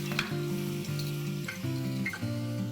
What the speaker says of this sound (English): Let's saute this further till a little more oil separates.